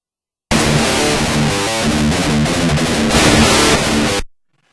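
Loud distorted electric guitar tracks without impulse response cabinet simulation play a dense, harsh, fizzy riff with chugging chords for about four seconds, then stop abruptly.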